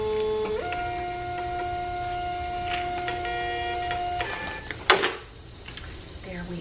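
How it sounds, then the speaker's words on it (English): A Dymo 4XL label printer runs a 4x6 shipping label: a steady mechanical whir with tonal hum for about four seconds, ending in a short clack, then quieter room noise. "I'm printing on my Dymo"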